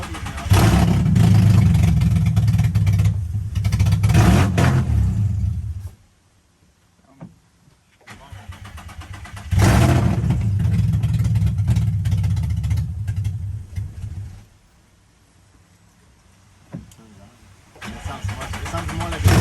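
Nissan 350Z engine after a rebuild, cranking and firing into loud revving bursts that come in two long spells around a quieter idle gap, close to the microphone, with people talking over it.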